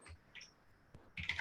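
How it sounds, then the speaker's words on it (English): Keys on a computer keyboard click faintly and sparsely, a few soft taps followed by a quicker cluster of keystrokes, close but quiet, with no talk. "I'm typing, sir."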